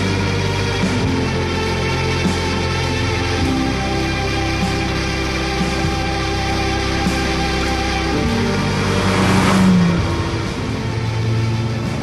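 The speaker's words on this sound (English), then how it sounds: "It's a Ferrari 275 GTS." A 1964 Ferrari 275 GTS engine runs steadily nearby with a deep, even drone and low tonal hum, swelling briefly louder near the end.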